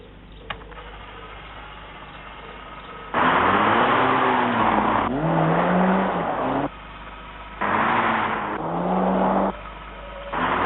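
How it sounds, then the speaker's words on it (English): A Peugeot 309 GTI car engine revs hard in two loud bursts that rise and fall in pitch. Quieter stretches of low engine noise lie between and around them, and no one speaks. "The Peugeot 309 GTI, the smart car in the class."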